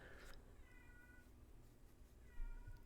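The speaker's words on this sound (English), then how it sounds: "My cat is trying to get inside again." A pet cat meows repeatedly while trying to get indoors, several clear drawn-out cries near the start and again toward the end, moderately close over faint background noise.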